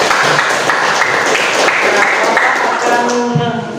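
Applause from a classroom of students during a lesson, a steady dense patter of many hands clapping for a few seconds, close and fairly loud, with some voices mixed in as it tapers off.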